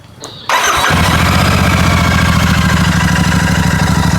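A Royal Enfield Shotgun 650 motorcycle engine cranks briefly, fires into life and settles into a loud, steady idle with an even low-pitched throb.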